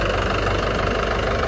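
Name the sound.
tractor engine as the tractor drives off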